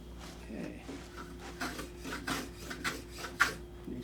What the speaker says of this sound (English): you can see I'm holding the plane at a slight angle to match the angle of the split